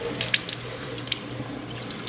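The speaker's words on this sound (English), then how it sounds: "That's why the running water helps." Water runs steadily from a tap into a sink while fabric is rinsed under the stream, a close, continuous splashing rush with small irregular spatters throughout.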